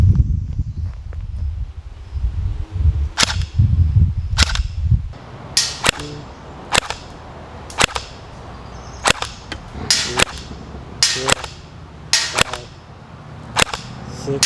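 Novritsch SSP-18 airsoft pistol fired down range, a run of about ten sharp, snappy reports at uneven intervals after a few seconds of low rustling.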